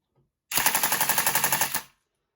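A Tokyo Marui MK46 airsoft light machine gun fires one loud, close burst of about fourteen rapid, evenly spaced shots that lasts just over a second, with silence before and after.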